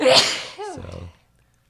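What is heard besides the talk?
sneeze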